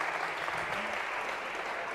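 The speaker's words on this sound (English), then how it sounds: "This is really like the lamest sort of thing to be applauding over." Audience applause in a university lecture hall during a computer science class, a steady even wash of clapping lasting the whole moment, moderately loud and continuous with no pauses.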